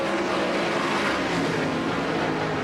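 A sprint car racing around the Knoxville Raceway dirt oval during the 2001 Knoxville Nationals A Main, a steady distant high-pitched engine drone with no pauses and no speech.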